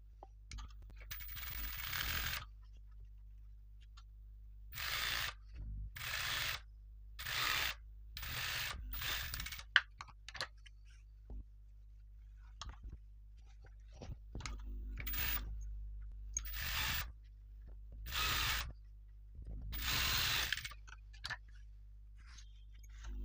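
A sewing machine stitches a blouse sleeve in about a dozen short, rapid bursts of whirring needle clatter, separated by quiet pauses, recorded close up.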